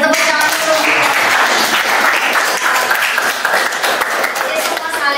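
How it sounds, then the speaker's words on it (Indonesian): A classroom of students claps together, brisk and fairly loud for several seconds, with a teacher's voice mixed in. "Luar biasa, tepuk tangan dulu."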